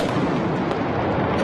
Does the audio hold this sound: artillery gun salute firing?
yes